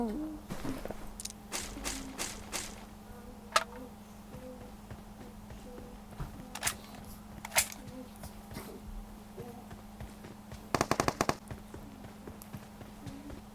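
Gunfire in the battle-royale video game PUBG: scattered sharp shots at a moderate distance over a steady low hum, ending in a tight rapid burst near the end.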